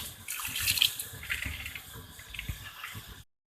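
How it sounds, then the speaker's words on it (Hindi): Soaked rice pours into a pot of boiling water, giving a steady close rush and splash of water with small clinks, alone without talk. "अभी चावल जो हमने पहले से भिगो के रखे थे ये इसमें शामिल कर देंगे।"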